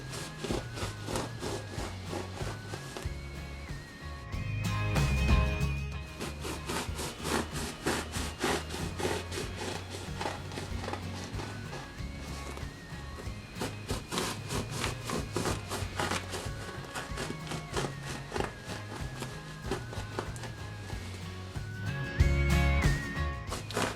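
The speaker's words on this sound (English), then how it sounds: "Cut the bread in a crisscross pattern. First, make cuts from one side." A knife saws repeatedly through a loaf of bread being cut in a crisscross pattern for cheesy garlic pull-apart bread, a rhythmic rasping back-and-forth of steady strokes over quiet background music.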